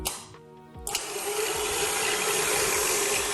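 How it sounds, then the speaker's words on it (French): An electric mixer blends mascarpone, cream cheese and icing sugar, a brief lull giving way to a loud, steady mechanical whirring drone that carries on to the end. "nous allons laisser mixer"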